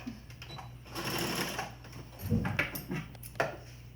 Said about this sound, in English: So where you would normally pin in the wire, I don't pin it in, I just stitch it in.